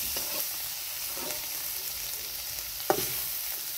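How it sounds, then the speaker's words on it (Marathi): Mustard and cumin seeds fry in hot oil for an eggplant bharit, giving a steady close sizzle with scattered pops and one sharper crackle near the end, with no talking. "तेल गरम झालं, त्यानंतर मोहरी टाकली 1 चमचा. 1 चमचे जिरे मोहरी चांगले तळून घेऊ."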